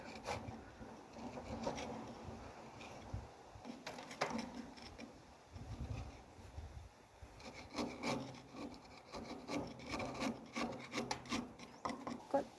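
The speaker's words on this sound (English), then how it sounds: "so just using a chisel to work away." A chisel works away at a piece of wood in a studio, producing steady close scraping and rasping strokes, repeated in an uneven rhythm at a fairly quiet level throughout.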